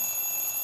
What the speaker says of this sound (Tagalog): Alarm clock. Alarm clock, eh.